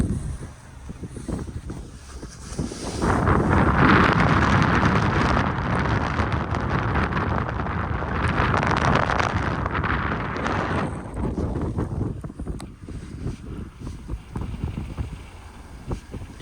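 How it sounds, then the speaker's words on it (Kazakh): Strong wind roars through a snowstorm at night in Aktau, Kazakhstan, a loud continuous broadband rush that swells and holds for several seconds, then eases toward a lower, steady blow. "Жел мықты бізде"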